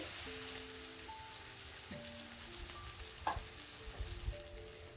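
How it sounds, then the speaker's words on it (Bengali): Onion with salt and a little ginger-garlic paste lightly frying in a pan, a soft, faint sizzle with occasional stirring taps and some background tones. "আবারও পেঁয়াজটাকে আমি এক মিনিটের মতো হালকা ভেজে নিচ্ছি"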